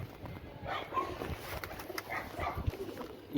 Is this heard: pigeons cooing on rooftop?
yes